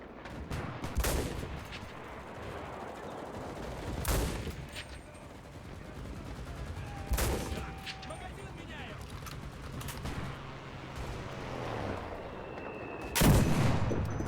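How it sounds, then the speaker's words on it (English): PTRD-41 anti-tank rifle fired in a tank-camping video game battle, a few loud, widely spaced single booming shots over constant background battle noise. "So this is where I switch to anti-tank gun. This is one shot, then you gotta reload."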